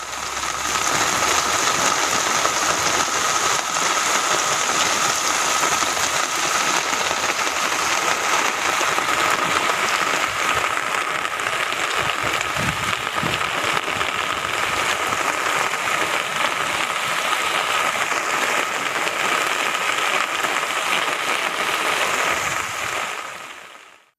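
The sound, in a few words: heavy rain with thunder in Chennai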